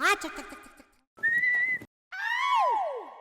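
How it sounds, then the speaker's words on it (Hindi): A street tough's teasing catcall whistle aimed at a woman: a short voiced murmur, then a sustained shrill whistle, a pause, and a longer whistle bending upward and then sliding down. "मुझे सीटी मारता है"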